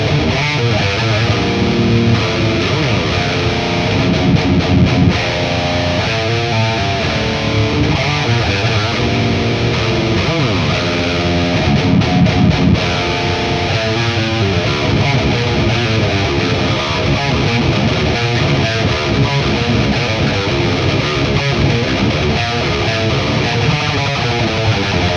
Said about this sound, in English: I'm running an NS2 noise gate into this Ibanez TS9 tube screamer into the front of the VHT Deliverance amplifier.